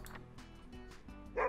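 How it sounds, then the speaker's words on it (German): Dog yips and whimpers from the survival game 60 Seconds, a short burst of barking near the end over a steady game music bed, with no talk over it. "Pancake, das ist der Hund"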